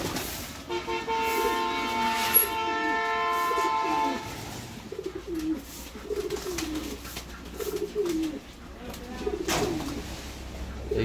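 Pigeons kept in a cage during winter coo in repeated low, rolling phrases close by, over a steady background hum and rustling; a person speaks quietly at times.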